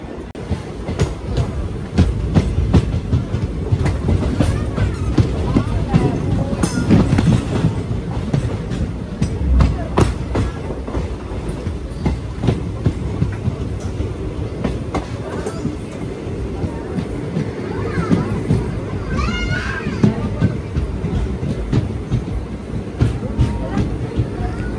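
The Tiruchirappalli to Rameswaram Express rolls along the tracks after leaving Manamadurai Junction, with a steady loud rumble and rhythmic clickety-clack of wheels, occasional squeals, and voices faintly underneath.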